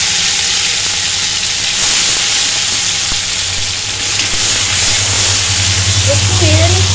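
Chopped tomato sizzles loudly in hot oil in a pan while being stirred, a steady close frying hiss throughout with faint scraping and a brief voice near the end.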